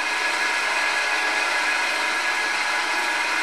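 A Hafco AL355 metal lathe spins at about 960 RPM, giving a steady, loud mechanical whir and hiss that holds unchanged throughout with no voices.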